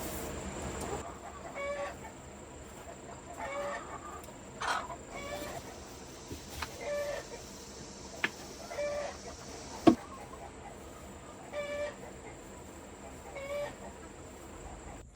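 Chickens in a coop, some of them broody, give soft scattered clucks and short calls at intervals over a low quiet background, with a few sharper knocks between them.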